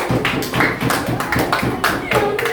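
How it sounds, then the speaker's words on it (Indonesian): Clapping in a classroom for a presenting group, a rhythmic burst of many hands clapping together in a steady beat, with voices mixed in. "beri tepuk tangan untuk kelompok Pak Kim"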